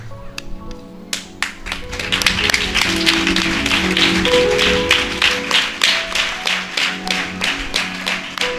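A church congregation breaks into applause that starts scattered, then builds into steady rhythmic clapping in unison, with a faint musical tone beneath.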